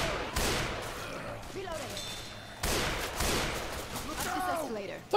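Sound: pistol and shotgun gunfire in Left 4 Dead 2, video game

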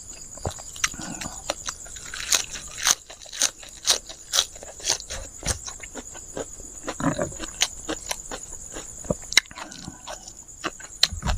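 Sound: crunchy chewing of spicy beef omasum salad

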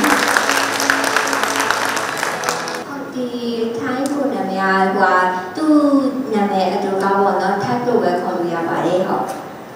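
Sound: applause for a speaker invited to the stage

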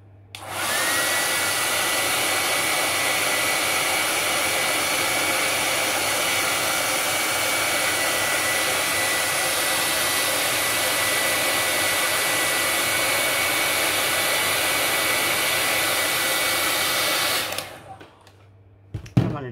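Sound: hair dryer drying paint

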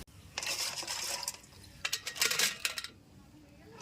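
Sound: washing Sundarbans crab legs in water

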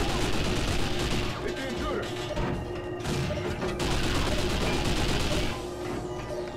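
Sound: gunfire in video game 007 Nightfire

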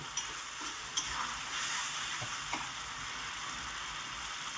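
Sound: spice masala being stirred and fried in oil

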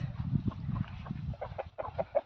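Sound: chicken clucking

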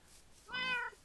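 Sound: cat meowing in a video game

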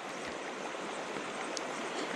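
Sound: creek water flowing

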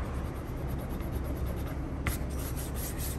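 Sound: microfiber cloth wiping eraser marks off plastic

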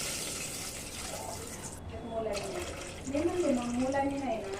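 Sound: water being poured into a cooking pot

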